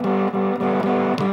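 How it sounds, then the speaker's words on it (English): Electric guitar played through a blue distortion/fuzz pedal rings out in loud sustained chords, cut by a few short breaks and restrikes, alone with no talk. "This is distortion slash fuzz."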